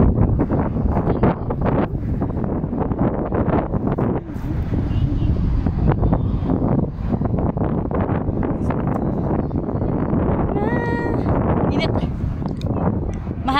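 Steady wind buffets the microphone outdoors in a park in Doha, Qatar, a broad continuous rush with a voice talking faintly underneath.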